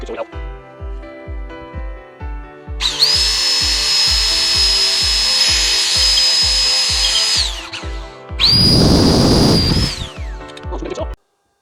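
A jigsaw cuts material for a homemade sandblasting cabinet, its fast reciprocating buzz loud and close in two long bursts over a steady background of rapid ticking.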